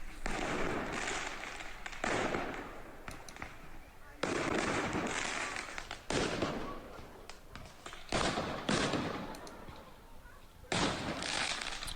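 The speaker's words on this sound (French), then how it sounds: "c'est des feux d'artifice" Repeated bursts of crackling fireworks explode in loud clusters during a night of rioting in Argenteuil, with brief gaps between volleys and a steady din of noise throughout.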